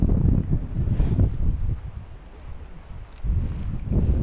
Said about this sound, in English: This wind is highly annoying.